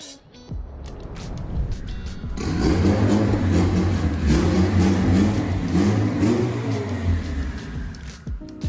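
A turbocharged Honda Civic hatchback rolls into a shop under its own power, the engine rising from a low idle into a sustained mid-pitched revving rumble that holds, then eases off near the end, loud and close.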